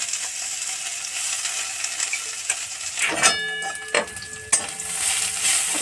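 Coriander and curry leaf paste sizzles and spits in hot oil, a steady close frying hiss with a few sharp stirring scrapes and clinks of a utensil against the pan near the end.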